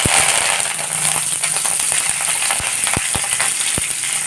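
Cumin, black pepper and two sprigs of curry leaves sizzle and crackle in hot oil while a dish of greens is being cooked, giving a steady frying hiss with sharp pops that stand out on their own.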